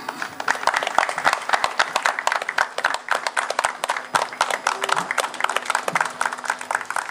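An audience claps at a neighborhood ceremony honoring the Virgin of Luján in the Santa Clara district, with many hands producing sharp, irregular, fairly close applause that stays steady throughout.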